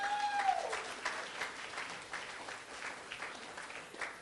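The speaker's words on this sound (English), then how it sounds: "you have the cheering going on tonight" Audience at a high school track and field awards night applauding steadily, dense clapping with scattered cheers, moderately loud and continuous throughout.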